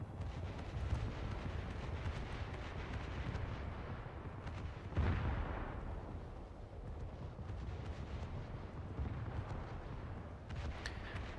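Frigate naval gunfire in a video game: a single heavy boom lands mid-clip over a constant roaring wash of wind and sea noise, with no talking.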